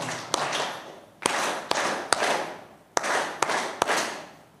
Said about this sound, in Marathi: 3दा टाळ्या आपण करून घेऊया